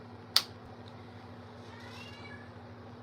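A cat gives one short, sharp meow close by, followed later by a faint, drawn-out second cry, over a steady low hum of background noise.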